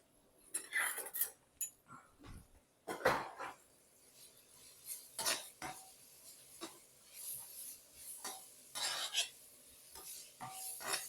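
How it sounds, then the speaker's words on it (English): A metal spoon scrapes and clatters in a frying pan while mince and tomato cook for cottage pie, with irregular knocks and scraping strokes and a faint sizzle underneath, close up and fairly loud. "This is not a good spoon for frying"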